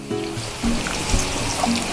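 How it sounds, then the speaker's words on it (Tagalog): Water flowing out of an irrigation outlet makes a continuous rushing, trickling wash outdoors, steady and fairly loud throughout. "May tubig na lumalabas?"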